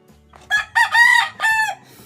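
A rooster crows once, loud and close, a full cock-a-doodle-doo in several rising and falling bursts.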